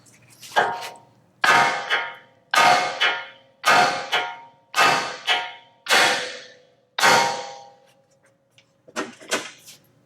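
A hammer strikes the lower ball joint on a 2002 Toyota Tacoma, landing about seven loud, ringing metallic clangs at a steady rhythm, each decaying briefly, followed by a pause and a couple of lighter quick taps.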